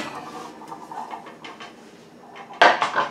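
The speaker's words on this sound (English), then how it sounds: "you'll have pans and pots in the oven. So just make sure you take it all out." Metal pots and pans are pulled out of a kitchen oven, clinking and rattling lightly at first, then a louder clattering bang of cookware near the end.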